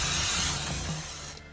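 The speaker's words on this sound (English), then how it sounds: "Spray glue." A short, steady hiss of an aerosol can of spray glue, fairly close, tapering off and stopping abruptly near the end.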